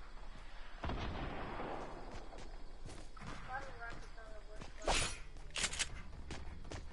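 Bottle rocket weapon fire in a creative-mode shooter game, a series of popping blasts and whooshes that build in density, with a louder burst near the end, over continuous game noise.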